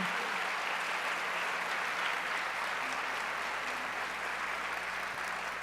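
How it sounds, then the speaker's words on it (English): Audience applause at an MLK symposium keynote address, a continuous, even wash of clapping at moderate distance with a faint low hum beneath. "let's have another round of applause for Stephen Rush, Scott Piper, and Daniel Wa"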